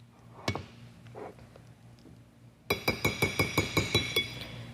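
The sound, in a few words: stirring ingredients in a pan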